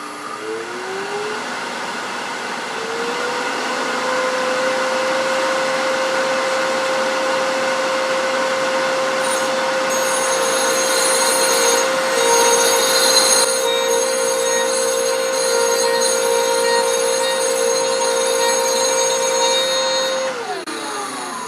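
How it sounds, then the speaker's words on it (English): A wood lathe spins up to high speed while threads are cut into a wooden acorn box lid, giving a loud, steady droning whine with a rising pitch at the start, a rough cutting hiss layered on top, and a drop as it winds down near the end. "Turn the speed up, and then we're going to start cutting those threads."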